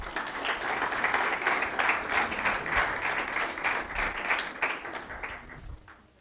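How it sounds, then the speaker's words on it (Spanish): Sustained audience applause fills a church-style gathering, dense clapping from a large crowd holding steady for several seconds before tapering off at the end, with no talk over it. "Démosle un aplauso al modelo."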